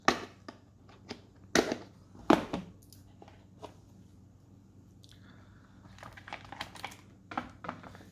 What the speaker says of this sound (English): Let's get it open. They send them in these plastic blister packs.